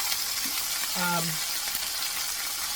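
Chicken and vegetables fry in a skillet with a steady soft sizzle throughout, plus a brief clink of stirring partway through.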